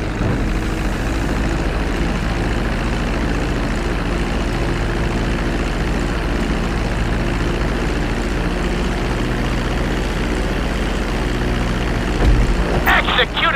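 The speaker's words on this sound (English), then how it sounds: "Start reducing the plane's altitude gradually so you're just above the runway as you approach." A plane in GTA 5 approaches and lands on a runway, giving a loud steady engine drone throughout with a brief rise near the end, the speaker talking over it.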